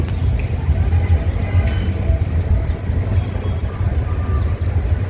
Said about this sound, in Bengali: আপনারা দেখতে পাচ্ছেন ট্রেনটি হাঁটি হাঁটি পা পা করে এগিয়ে আসছে